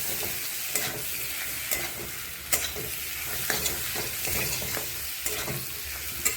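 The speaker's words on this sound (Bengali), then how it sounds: "আলুটাও ভাজা, তাও মশলার সাথে একসাথে আরেকটু ভাজা হবে।" Potatoes already fried are stirred into spiced masala in a pan for an egg curry, giving a steady sizzle with repeated sharp scrapes of the spoon, close and fairly loud, with no talk.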